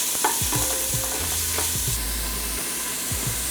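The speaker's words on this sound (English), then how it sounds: "Got some onions and some garlic. I wanna saute those up for a couple of minutes." Onions and garlic sauté in a pan with a steady close sizzle, broken by several distinct stirring scrapes and knocks of a utensil against the pan.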